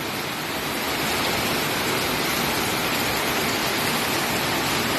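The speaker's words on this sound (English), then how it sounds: "oh, it's a lot of rain too." Heavy monsoon rain pours down in a dense, steady roar that stays loud and unbroken throughout, with no voices.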